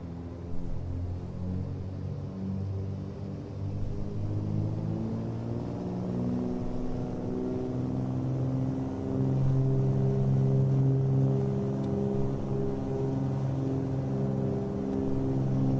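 Twin piston engines of a Cessna 310 drone steadily as the aircraft rolls for takeoff, a smooth harmonic hum that climbs in pitch and grows louder as power builds over about sixteen seconds, heard from inside the cabin with no talking.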